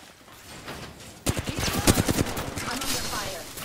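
Gunfire in Apex Legends: quiet game ambience, then a sudden burst of rapid, close automatic shots in a tight rhythm, with scattered further shots as it tails off.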